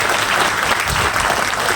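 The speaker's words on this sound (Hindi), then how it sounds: "एक बार शानदार तालियां चाहूँगा उन सभी लोगों के लिए" Dense, steady applause from an audience at an ITC income seminar, a continuous wash of many hands clapping at close range with no pauses, lasting under two seconds.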